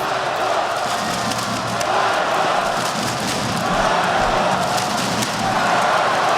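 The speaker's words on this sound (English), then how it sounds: "Suddenly the crowd wants Falcons." Esports arena crowd at a Counter-Strike grand final cheering and roaring for Falcons, a dense, steady wall of loud crowd noise sustained throughout.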